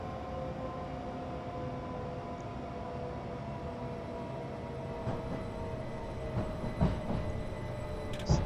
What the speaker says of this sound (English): It does like sound like a train coming into the station.